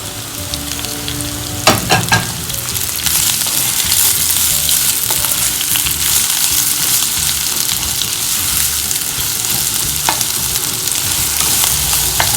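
Sliced onions drop into hot oil for mulagu mutta and fry loudly and close, with a dense continuous sizzle after a few sharp clatters and occasional stirring clicks.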